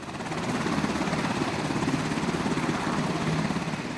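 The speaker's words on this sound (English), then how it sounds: "The medevac helicopter takes away the wounded Afghan soldier." Medevac helicopter in Afghanistan carrying away a wounded soldier, its rotor thudding in a steady loud chop that swells in over the first half second and holds close and constant.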